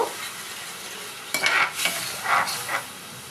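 Sesame and tomato sauce stirred in a pan over a quiet sizzle, a few distinct scraping sweeps of the spoon along the pan coming in bursts, close up with no talking.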